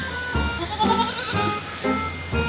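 Goats bleat repeatedly, several overlapping wavering calls close by, with a steady background murmur between them.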